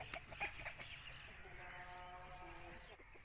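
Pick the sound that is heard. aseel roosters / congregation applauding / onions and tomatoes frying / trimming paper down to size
aseel roosters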